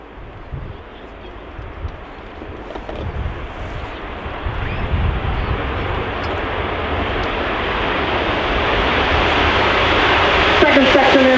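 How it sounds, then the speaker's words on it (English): A military jet at the RIAT 2018 airshow accelerates down the runway on its takeoff roll, engine roar swelling steadily louder from distant to near, with a commentator talking over it. "Acceleration during this takeoff roll"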